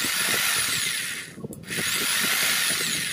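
A Lotus 710 W jigsaw runs continuously at orbital setting 1, giving a steady buzzing whine with a brief dip in the middle, close and loud with no speech.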